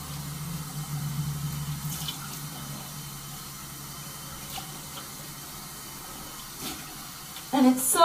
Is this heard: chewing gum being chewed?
no